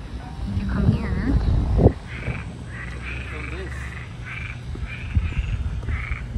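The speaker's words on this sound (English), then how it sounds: "What are these frogs?" Frogs croaking outside a house near the beach in Florida, a regular series of short repeated croaks carrying on steadily, with people talking and some handling noise near the start.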